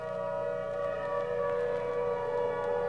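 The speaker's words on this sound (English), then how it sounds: "the distant song of the fire siren" A far-off fire siren mounted atop a red brick engine house holds a long, steady wail across the whole stretch, with faint outdoor background around it.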